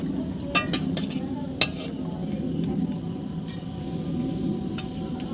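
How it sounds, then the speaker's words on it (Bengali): Eggplant fritters (beguni) fry in hot oil, a steady fine sizzle with a few sharp metallic clinks of a utensil near the start. "দুটো বেগুনি আমাদের ভাজা হয়ে গেছে, এখন আমরা তেল থেকে নামিয়ে নিচ্ছি"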